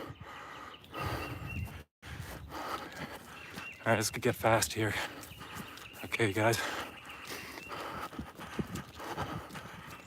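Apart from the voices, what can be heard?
horse hooves clip-clopping on a trail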